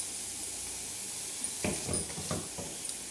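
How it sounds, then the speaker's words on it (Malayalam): Beans sautéing in a hot pan for a quinoa meal, a steady close sizzle and hiss with a few soft stirring scrapes partway through. "ഇനി നമുക്ക് ബീൻസ് ചേർത്ത് കൊടുക്കാം. അതും ചേർത്ത് ഒന്ന് വഴറ്റിയെടുക്കാം."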